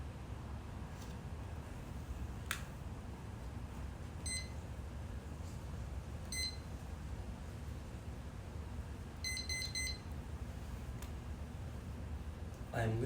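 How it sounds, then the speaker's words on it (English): A kitchen-style timer gives short clusters of high electronic beeps as its buttons are set, sounding at intervals over steady low room noise during a quiet yoga session. "I'm setting my timers"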